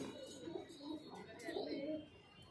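Soft, low pigeon cooing murmurs on and off in a loft, several Kaldum-breed highflyer pigeons close by with faint chirps overhead.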